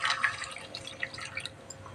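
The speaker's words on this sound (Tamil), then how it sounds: "இப்போ தண்ணி ஒரு கிளாஸ் தண்ணி வந்து ஊற்றிடலாம்" Water poured from a glass into a pan on a stove, heard as faint, close splashing and dripping over about two seconds, with no talking.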